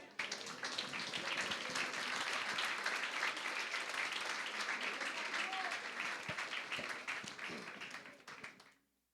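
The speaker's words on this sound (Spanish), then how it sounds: "Alabe a Dios en esta mañana, por favor, dale un fuerte aplauso." A congregation at a Spanish-language church service breaks into dense, sustained applause that stays full for several seconds before tapering off and stopping near the end.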